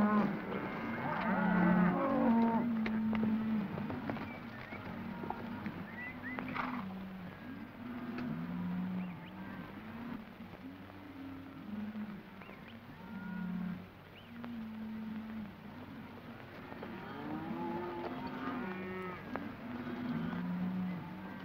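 Cattle low in a 1930s Western trail drive, deep moos rising and falling repeatedly at a moderate distance over a low, steady background rumble.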